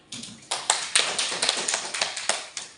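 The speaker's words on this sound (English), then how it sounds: "give a big applause to Astrid" Classroom applause for a student: a burst of claps from a small group, starting thin then settling into a steady run of sharp, close hand claps for a few seconds, with no voices over it.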